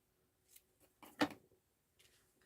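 Scissors snip through double-tied string, a few faint close cuts with one sharper snip in the middle, in a quiet room.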